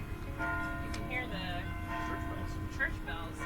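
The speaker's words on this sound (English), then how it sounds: "the church bells are ringing" Church bells of St. Casimir's ringing at a distance, a soft steady peal under a busy outdoor background with people chatting nearby.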